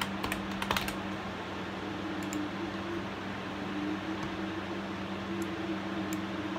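A note is typed on a computer keyboard as a few faint, close clicks early on, set against a steady hum and hiss that fills the rest of the stretch.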